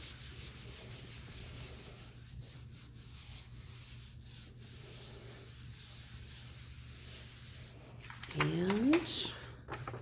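Paper being rubbed by hand against an inked printmaking block while pulling a three-color print: a steady, close, soft brushing friction that continues throughout, followed near the end by a brief sharper rustle as the paper shifts.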